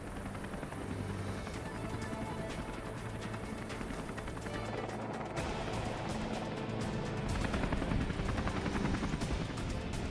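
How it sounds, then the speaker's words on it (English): A rescue helicopter's rotor thumps and engine roar grow steadily louder over ten seconds as it approaches on a steep mountain, with rapid chopping pulses and some rattling noise. "I could hear the helicopters coming in"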